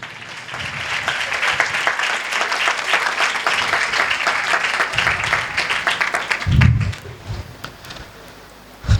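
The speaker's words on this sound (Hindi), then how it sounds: "आए यीशु के लिए जोरदार ताली बजाए" Loud, sustained applause from a church congregation cheering for Jesus during a pastor's sermon, dense clapping filling most of the stretch before it tapers off near the end.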